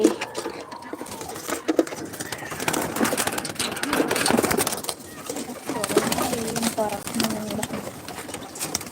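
Pigeons coo softly nearby with low, rolling calls, partly under people talking and some background clatter.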